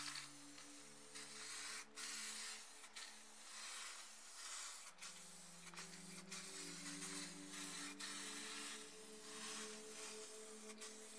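A spray can lays down clear coat over spray-paint planet art, a steady close hiss of aerosol running almost continuously, broken by a few short pauses and sharp restarts.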